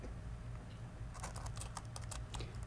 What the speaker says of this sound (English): And we can go ahead and type